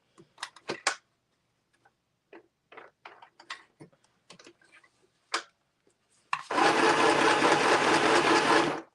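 Scattered light clicks and handling taps give way to a sewing machine running loud and steady, stitching fabric pages for a fall-themed junk journal.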